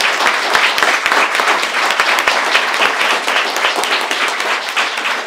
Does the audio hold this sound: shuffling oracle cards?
no